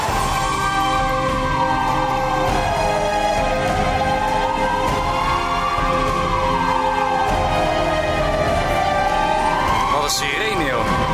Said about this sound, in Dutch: Wat een sirene, joh.